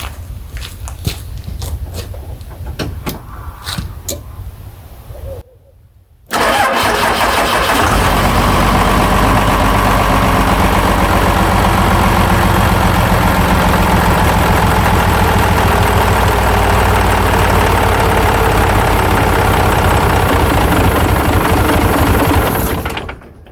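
A 1995 Dodge Ram 2500 pickup, on new fuel, cranks briefly after some handling noise, fires and settles into a loud, steady idle. The idle runs close and unbroken for about seventeen seconds before cutting off.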